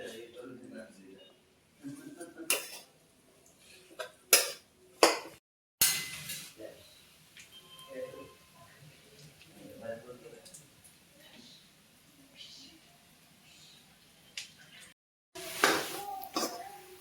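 Dates roasting in ghee in a pan for khajur pak are stirred slowly, with intermittent metal scrapes and clinks of the spoon, a cough or two and a voice talking between them.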